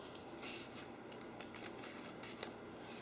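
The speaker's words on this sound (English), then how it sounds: "I'm just going to cut that off for now." Scissors snip off a piece of ribbon for a candle gift basket, a few quiet, close cutting sounds over soft background hiss.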